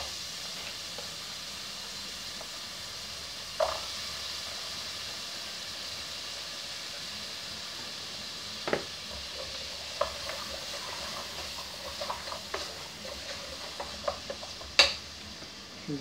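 Sliced carrot cooks in a pan for vegetable stroganoff, a soft steady sizzle broken by occasional clinks and scrapes of a utensil stirring against the pan.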